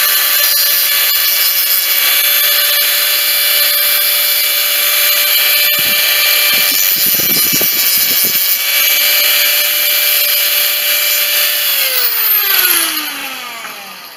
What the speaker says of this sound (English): you want to clean these burrs up a little bit